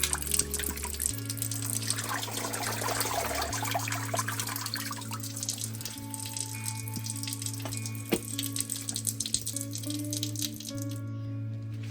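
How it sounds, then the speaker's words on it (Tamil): Tap water runs steadily over greens (spinach) being washed in a sink, with a constant hum and rattling, splashing handling of the leaves close by. "இனி நான் இதை மிக்ஸ் பண்ணித்தான் இனி நான் இதை வடிவாக கழுவி"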